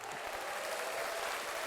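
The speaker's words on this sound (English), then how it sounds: "Oh, let me give you the applause too for you." A canned applause sound effect plays on a comedy chat show, a short, dense, even burst of clapping and crowd noise at moderate volume.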